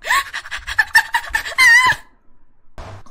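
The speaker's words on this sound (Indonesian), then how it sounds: "Ada bebeknya. Lucu banget." A Minecraft video game chicken gives a rapid run of squawky clucks and a drawn-out cackle, loud and close, ending in a pause and one short final cluck.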